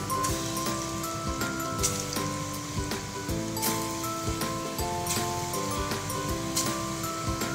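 Lentil paste fritters crackle and sizzle in hot mustard oil in a wok, a dense continuous spatter with frequent pops, moderately loud and close, while faint music or tones run underneath and nobody talks.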